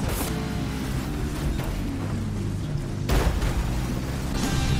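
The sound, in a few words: car crash in the video game Burnout Paradise Remastered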